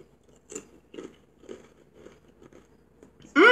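Someone bites into and chews a single extremely spicy One Chip Challenge chip, a series of short crunchy chews spaced about half a second apart, close and fairly quiet, ending in a sudden loud burst.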